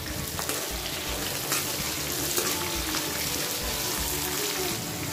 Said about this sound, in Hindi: मिर्ची भूनने के बाद अब हम इसके अंदर प्याज ऐड कर देंगे। इसको थोड़ी देर भून लेना है।